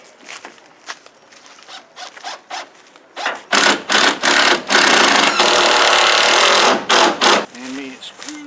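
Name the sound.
driving screws into wood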